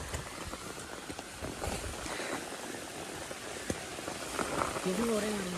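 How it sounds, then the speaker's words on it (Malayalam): Rain falling steadily along a hill trail up to Kurisumala at Kakkadampoyil, a continuous soft patter and hiss throughout, with a faint voice briefly audible near the end. "മഴയൊക്കെ പെയ്തുകൊണ്ട് നല്ല വൈക്കലും കാര്യങ്ങളൊക്കെ ഉണ്ട്"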